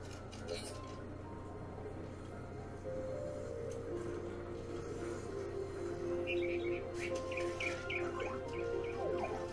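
A bird chirps in the Overwatch animated short The Last Bastion, with a short run of small, high tweets rising over a steady low hum and faint background sound.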